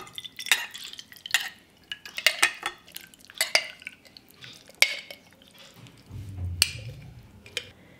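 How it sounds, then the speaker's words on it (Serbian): Cooked beans are poured and scooped into a glass jar, making irregular close clinks and taps of utensil on glass alongside soft wet plops, with a low muffled thud near the end. "I sad ćemo sipati pasulj u teglu."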